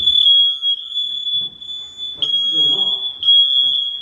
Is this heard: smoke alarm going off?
yes